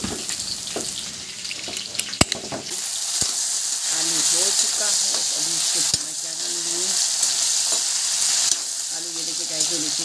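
Ingredients sizzle and fry in a pan in a home kitchen, a steady loud hiss with crackles and a few sharp clicks and scrapes of stirring, while a voice murmurs faintly.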